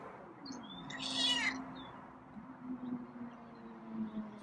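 A single cat meow rises clearly near the start, followed by a low steady hum and faint background noise.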